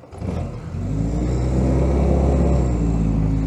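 Engine of a 1943 Willys MB Jeep, started from a dashboard starter button, catches and settles into a loud, steady, close rumbling idle with a throaty low tone, no voices over it.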